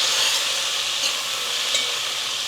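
A salted vegetable mixture for dhola sambharo sizzles and hisses steadily in a hot pan while it is stirred, with faint scraping. The sound is close and continuous, with no talking.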